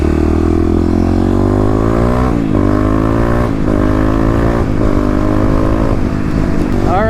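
A fuel-injected Kawasaki KLX351 dirt bike is ridden hard, its loud, close engine climbing in pitch through several gear changes, each shift marked by a brief dip before revving up again.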